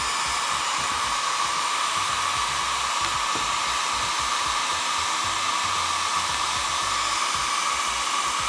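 A hair dryer blows a loud, steady rushing hum up close, used to heat vinyl wrap on the rear wing of a Nissan Skyline GTR, running unbroken for several seconds without any talk.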